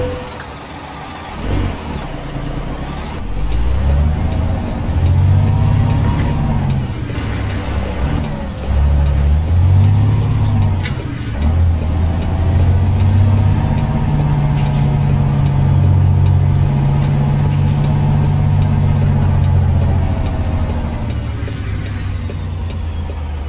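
An Autocar AT64 truck in a driving video game, its diesel engine droning steadily and loudly, rising and falling in pitch as it accelerates and shifts gears, with a brief air hiss early on.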